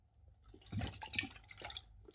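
Water moving in a glass water filter jug, soft close sloshing and trickling with a few small drips, quiet and intimate.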